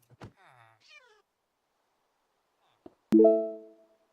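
A cat meows in a short, wavering cry near the start, then after a pause a louder, sustained tonal meow rings out alone in an otherwise quiet space.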